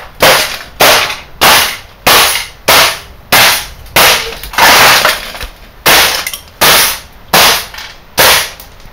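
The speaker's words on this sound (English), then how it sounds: "Now I'm gonna destroy it." An HP printer being smashed, a steady series of about a dozen sharp, loud cracking and breaking impacts at a regular rhythm, close and alone without talk.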